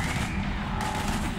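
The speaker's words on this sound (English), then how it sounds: "we're taking heavy fire" Sustained gunfire in the video game Mass Effect 3 during a heavy firefight on Earth, a dense steady roar of weapons that fills the short stretch without a break, loud and continuous.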